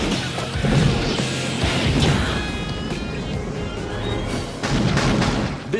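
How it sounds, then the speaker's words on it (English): A film explosion from Last Action Hero, a dense, sustained roar of crashing debris and booms lasting several seconds, loud and mixed with film soundtrack. "I do like that explosion, by the way."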